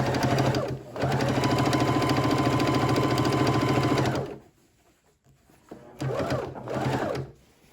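A sewing machine stitches binding onto a quilt, running loud and close in a steady three-second burst, then falling quiet before two short bursts follow.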